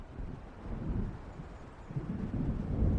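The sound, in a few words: thunder of an approaching storm in video game Alan Wake Remastered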